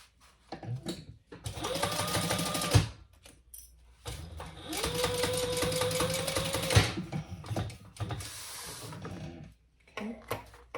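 A sewing machine bastes a panel in place on a backpack, running in two close, steady bursts of rapid needle chatter separated by short pauses, with small clicks and handling noises between runs.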